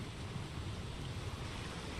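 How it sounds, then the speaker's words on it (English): Water flowing through The Dreamland game world, heard as a steady, continuous wash of rushing water that holds an even level throughout, with no voices. "You hear the trickling of the water."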